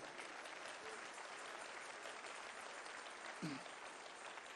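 A church congregation at a Christmas sermon applauds, a dense, even wash of clapping at moderate volume that holds steady throughout, with a short vocal sound briefly rising over it.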